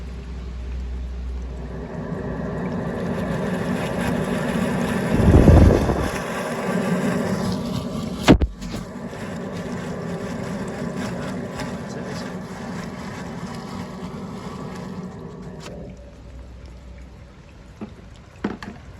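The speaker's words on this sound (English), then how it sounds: "I've got this boiler going in high rate for a spare. And it sounds awful, like there's water in this flue or something." A gas boiler running at high rate, with water in its flue, gives a steady rough roar and rumble, a loud gurgling surge partway through, a sharp knock, then continued churning noise with no talk.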